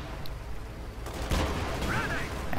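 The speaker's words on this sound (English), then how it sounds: "he keeps shooting the shrubs" Gunfire in a real-time strategy match as a Puma armoured car keeps shooting at shrubs, a burst of sharp reports and rattling shots over steady battle ambience, fairly close and moderately loud.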